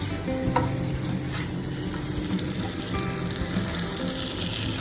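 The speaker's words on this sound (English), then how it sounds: "I've been stirring the sambal continuously for about 15 minutes now" Sambal ikan bilis is stirred continuously in a pan as it cooks down, giving a dense, steady bubbling sizzle with soft scraping underneath, close and even, with no speech.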